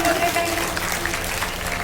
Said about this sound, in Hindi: ताली बजा तो जोर से बजा तो